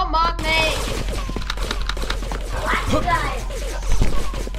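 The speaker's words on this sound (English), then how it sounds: "Lots of explosion." Rapid gunfire and explosions from a chaotic shooter game, with dense bursts of shots and booming blasts, while a person talks over the action.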